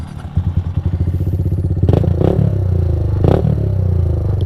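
A mini bike's loud engine exhaust rumbles close by with a rapid, throbbing putter, building and revving with a couple of sharper surges and some clattering over a steady low drone.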